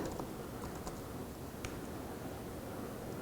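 Faint, sparse keystrokes tap on a computer keyboard while someone writes code, soft scattered clicks over a low steady background hiss, with no voices.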